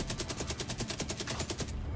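A UMP submachine gun fires in The Division 2 in one sustained burst of about fourteen rapid, evenly spaced loud shots that stops just before the end.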